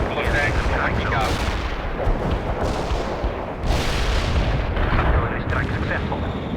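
Heavy artillery shells explode in rapid succession in the war game Conflict World, with loud booming blasts layered over dense rumbling gunfire that never lets up.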